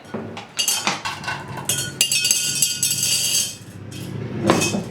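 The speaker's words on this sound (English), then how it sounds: "If you don't have sand, you can move straight to small rocks like I'm going to do." Small rocks poured into a container as a layer clatter and clink in bursts, a close, loud rattling cascade of hard stones striking each other and the vessel, with brief pauses between pours.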